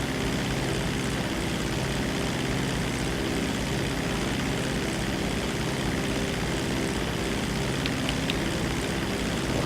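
A Dodo propeller seaplane flying in GTA 5 Online, its engine giving a continuous steady drone with an even buzzing tone throughout, loud and close, with no voices.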